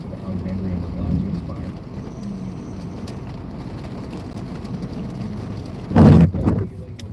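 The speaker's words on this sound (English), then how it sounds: "looking due west for this severe thunderstorm that's coming through" Severe tornado-warned thunderstorm in Hazelhurst, Mississippi, with steady rain hiss, low distant rumbling and a sharp loud thunder crack near the end, under quiet talk.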